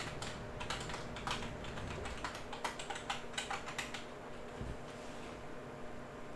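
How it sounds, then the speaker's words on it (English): Fingers type on a computer keyboard in quick irregular bursts of crisp clicks, close and clear over a low steady background hum. "I'm typing backwards"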